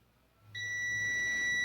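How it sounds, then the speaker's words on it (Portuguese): A multimeter's steady, high continuity beep starts abruptly while testing an electrolytic capacitor's terminals, holding continuously, clear and fairly close against a faint low hum. "aqui ele já está bipando, ou seja, está dando baixa resistência, baixíssima resistência"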